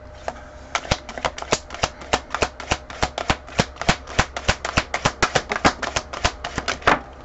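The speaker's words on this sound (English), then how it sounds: "Shuffle these again." A rapid run of crisp clicking snaps, close up, as tarot cards are riffled and bridged in quick succession.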